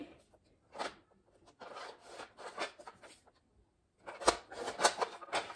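Scissors trim a laminated Polaroid pouch in short, quiet snipping and rubbing bursts, a few cuts, a pause, then a denser cluster of cuts near the end.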